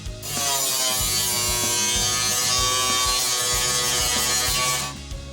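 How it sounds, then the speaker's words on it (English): A power cutting tool grinds through the metal floor of a 1973 Mustang during a restoration, a loud continuous high whine that starts abruptly, holds steady for about five seconds and then cuts off, with faint rhythmic knocking underneath. "So it was time to cut the floor."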